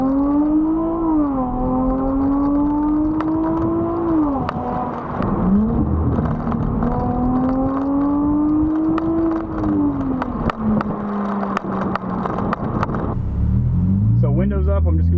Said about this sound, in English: I just can't not listen to the exhaust.